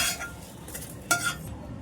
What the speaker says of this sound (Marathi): सर्व घालून परत एकदा असं मिक्स करायचं आहे